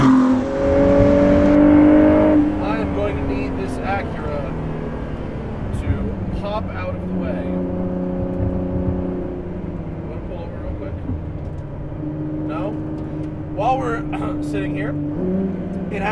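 A 2018 Ford GT engine at full throttle, its rising, strained tone climbing and dropping back through several gear changes. A steady, loud drone fills the cabin, and a voice seems to be speaking over it.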